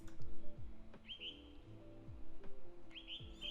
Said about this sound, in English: And then I added some texture. These bird sounds right here.